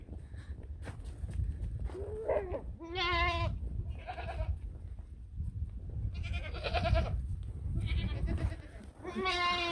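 Goats on a farm run down a path, bleating repeatedly in loud, wavering cries spread over several seconds, with shuffling movement and rustle underneath.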